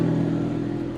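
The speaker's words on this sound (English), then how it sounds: "That is one of the most pissed off sounding 4-cylinder EcoBoosts I've ever heard." A Ford four-cylinder EcoBoost engine on its factory exhaust holds a loud, steady, aggressive rev close by, a continuous droning growl with no voices.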